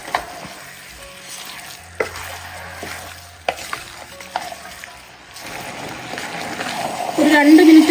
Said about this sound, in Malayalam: എല്ലാം കൂടെ നന്നായിട്ട് ഒന്ന് ഇളക്കിയെടുക്കാം.